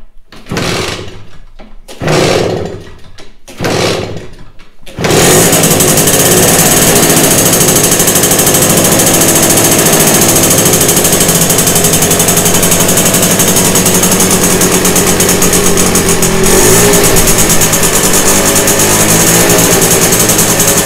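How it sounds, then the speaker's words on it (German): A Porsche 964 flat-six fires on a cold start with the cold-start lever pulled: a few short starter cranks, then the engine catches and holds a loud, steady fast idle right up close. "Das ist jetzt natürlich ein Kaltstart, dafür ziehe ich auch den Kaltstarthebel."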